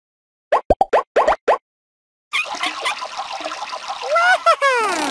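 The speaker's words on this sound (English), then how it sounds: "Elmo grabs his fishy-shaped soap and gets his hands all sudsy." Hand washing with fishy-shaped soap and water: a quick series of wet plops, a pause, then a steady trickle and splashing of running water that grows louder toward the end.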